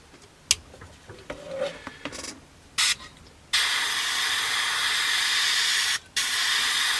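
Airbrush spraying Alclad Duraluminium silver lacquer onto a 1/72 scale Airfix Buccaneer S.2B model, a steady close hiss that starts after some brief handling clicks and runs continuously with one short pause.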